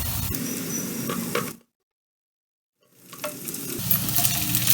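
Capsicum for Indo-Chinese chilli arbi sizzles loudly as it is stir-fried and tossed in a hot pan, broken by a sudden silent gap of about a second before the frying resumes.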